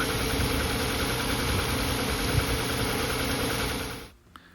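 A 2003 Cadillac CTS engine with a cylinder 1 misfire cranks and runs roughly, a loud, steady, uneven mechanical rumble close by that cuts off abruptly near the end.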